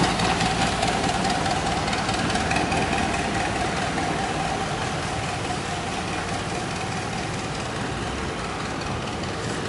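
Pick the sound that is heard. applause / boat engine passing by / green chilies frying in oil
boat engine passing by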